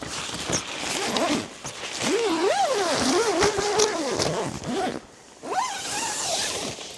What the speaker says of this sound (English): it is a case of just zipping it all up so it becomes secure.